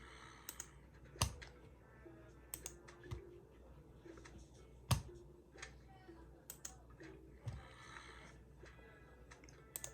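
Computer mouse clicks repeat at an irregular pace, sharp and fairly close, with fainter clicks scattered between a few louder ones over quiet room tone.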